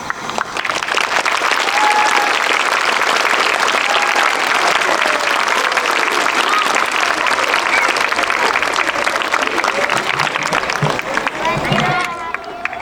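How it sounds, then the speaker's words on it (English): Loud, sustained applause from a crowd at a community gathering honoring a returned Army sergeant, dense clapping and cheering throughout with murmuring voices mixed in. "If we could give them a round of applause for joining us today"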